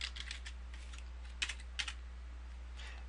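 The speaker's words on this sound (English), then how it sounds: "And then I can come down here and type a paragraph of text." Someone types a paragraph of text on a computer keyboard, with quiet, rapid key clicks in short bursts and two sharper presses standing out against a low steady hum.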